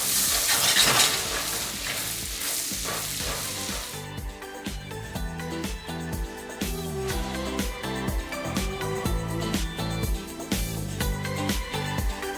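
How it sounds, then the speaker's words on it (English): Garlic and onion frying in melted butter in a pan, a loud hiss and sizzle that settles into steady crackling with frequent sharp pops and clicks, no voices over it. "We're gonna add our garlic and our onion in here. So we're gonna let that caramelize."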